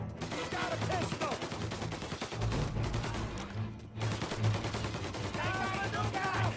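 Pistol and other gunfire in Mafia Definitive Edition, a steady run of shots and bursts under shouting game voices, dense and continuous throughout.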